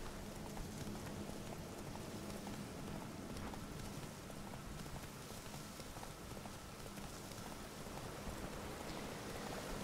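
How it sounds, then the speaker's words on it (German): Steady rain in the video game The Witcher 3: Wild Hunt – Hearts of Stone, a dense, even patter that fills the whole stretch with no breaks and no talk over it. "seitdem regnet es hier, oder?"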